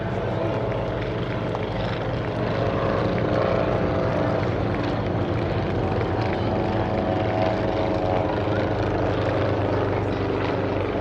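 A vintage propeller aircraft makes a final pass at an airshow, a loud, continuous droning engine roar that holds steady throughout.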